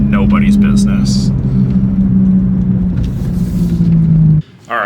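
Steady low engine drone and road rumble from a BMW F80 M3 on KW V3 coilovers cruising along a curving road, heard from inside the cabin, cutting off abruptly near the end.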